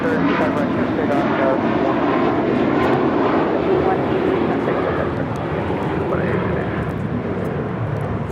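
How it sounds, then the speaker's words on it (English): A JetBlue Airways A321 takes off from Los Angeles bound for Boston, a loud, continuous engine roar with a rising tone, while radio chatter and talk run over it. "This departure is JetBlue Airways 188 taking off to Boston on an A321"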